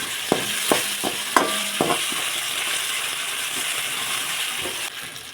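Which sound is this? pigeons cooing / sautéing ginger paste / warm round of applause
sautéing ginger paste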